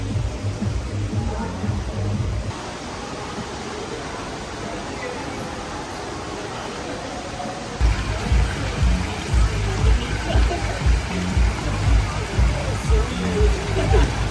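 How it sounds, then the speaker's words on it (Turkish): Waterfall in Bali, a steady rush of falling water that grows louder partway through, with speech over it. "Şuradan akan bir şelale var."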